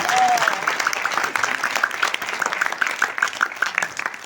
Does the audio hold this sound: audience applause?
yes